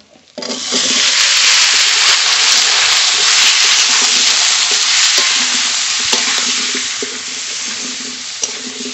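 Potato and pumpkin pieces fry together with turmeric in a home kitchen pan for khichuri, a loud, dense, continuous sizzle that starts abruptly and holds steady, alone without talk.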